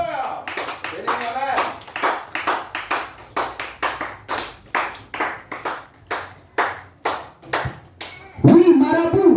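A church congregation claps in a steady rhythmic beat while acclaiming the Lord, loud and close, with voices speaking and calling out over the clapping.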